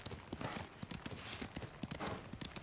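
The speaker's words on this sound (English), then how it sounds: "You call your horse and then it actually stops to get you." Horse hooves in Ghost of Tsushima clopping in a quick, steady gallop as the called horse approaches, loud and close throughout with no talk over them.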